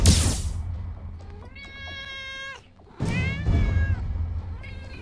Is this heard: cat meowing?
yes